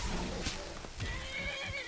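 Horse neighing in the video game Skyrim, a sharp whinny near the middle with clopping hooves and game sounds around it, close and clear.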